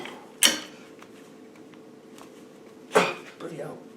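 A pneumatic pop rivet gun sets a steel rivet, giving two sharp, hissing bursts about two and a half seconds apart over a low background hum, with quiet talk nearby.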